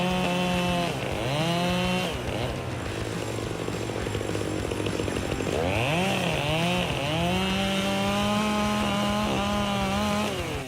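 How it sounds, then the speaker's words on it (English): A chainsaw cuts through wood, its engine loud and close, revving up and down in repeated swells as the chain bites and eases, with a steady high whine throughout. "Chainsaws are widely used in forestry, construction, and tree trimming operations."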